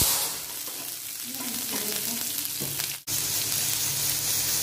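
Shallots, garlic and fennel seeds frying in hot oil in a pan for varutharacha beef curry: a loud, dense, steady sizzle close up, with a brief sharp drop in the middle before the frying hiss resumes.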